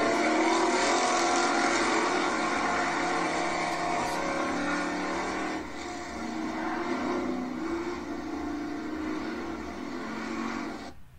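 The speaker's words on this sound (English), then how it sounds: "Just drive your car in circles." Cars driving in circles at a drag race event, a steady loud engine roar that holds throughout with a slight dip midway, no talking over it.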